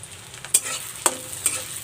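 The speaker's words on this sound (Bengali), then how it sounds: "তেলটা গরম হওয়ার পরে কেটে রাখা 2টা পেঁয়াজ কুচি দিয়ে দেব।" Chopped onions dropped into hot mustard oil in a pan, a quiet sizzle broken by three sharp spattering bursts as pieces hit the oil, with no talking.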